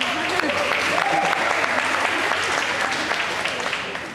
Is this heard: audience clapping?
yes